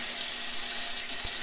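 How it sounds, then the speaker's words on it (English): Tap water runs steadily into a sink while a steel milk frother is rinsed under it, a continuous close splashing hiss with no voices. "and then I rinse it off with water"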